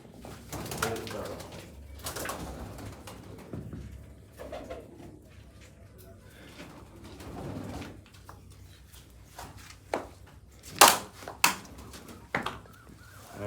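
Low pigeon coos sound intermittently nearby amid quiet surroundings, with several sharp clatters and knocks toward the end.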